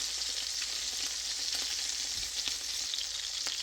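Chicken fried cubed steak fries in a pan of hot oil, a continuous close crackling sizzle with occasional pops, steady and alone without any voices.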